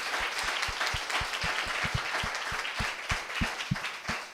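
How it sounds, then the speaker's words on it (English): Audience applause for panelists at a peace festival session, a moderate spread of individual claps tapping out an irregular rhythm across a sustained bed of clapping, heard steadily from start to finish. "I think we should give them a round of applause"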